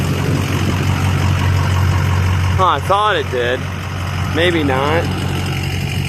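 A truck idles at an outdoor truck show, a steady low engine rumble running throughout while a person speaks briefly over it.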